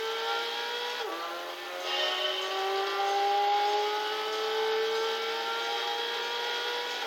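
An Abarth Grande Punto engine in the video game Gran Turismo 6 revs high and steady with a sustained whine, pitch rising and falling slightly as it holds speed.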